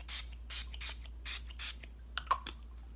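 Several short, airy bursts of Wet n Wild rose makeup setting spray in quick succession, fairly close, followed by a few soft taps and handling sounds.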